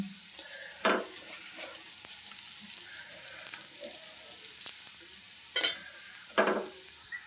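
Akki rotti, a rice flour flatbread, cooks in a little oil on a pan with a faint steady sizzle, broken by a few louder scraping and tapping sounds from handling it.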